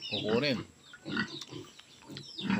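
A pig at a livestock sale gives short grunting oinks in a few bursts, close and moderately loud, with people talking around it.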